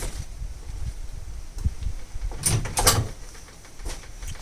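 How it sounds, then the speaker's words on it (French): The rear door of a camper cell slides and clunks open nearby with a short rattling scrape, over a steady outdoor rumble of wind. "il n'y a plus qu'à ouvrir la porte arrière."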